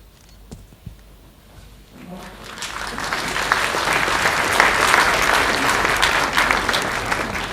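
Warm audience applause for panel members at a World Scout conference evaluation panel, starting sparse and swelling from about two seconds into sustained, dense clapping that holds steady to the end.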